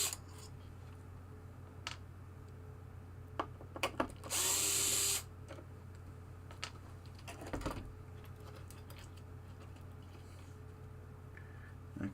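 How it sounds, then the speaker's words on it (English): A power drill backing screws out from under the playfield of a Williams Travel Time pinball machine, with one loud close whirring burst of about a second and shorter tool clicks and handling knocks around it, no voices. "Take these screws out."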